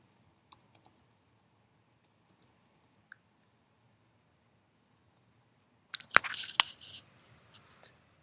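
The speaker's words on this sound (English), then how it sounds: "Type a name." Computer keyboard being typed on, a few isolated faint clicks early on, then a short quick burst of keystrokes near the end in an otherwise quiet room.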